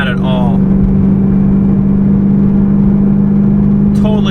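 A BMW M3 fitted with cheap aftermarket mufflers cruises at about 3,000 RPM near 55 mph, a steady low exhaust drone and road rumble filling the cabin, with brief voices at the start and end.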